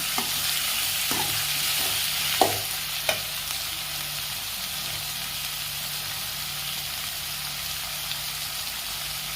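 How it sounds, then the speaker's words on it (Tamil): Tomatoes sauté in a pan for pudina chutney, with a steady bright sizzle throughout and a few soft scrapes of a stirring spoon near the start, close and fairly loud with no talking. "தக்காளி போட்டுட்டு நல்லா வதக்கி விடுங்க."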